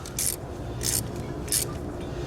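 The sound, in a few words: tightening a spark plug in a Ford Ranger 2.3L engine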